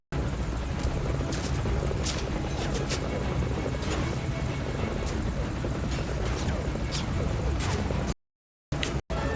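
Helicopter from the video game Metal Gear Solid V: Ground Zeroes, a steady loud rotor whir and engine drone filling the scene, then cutting out abruptly near the end.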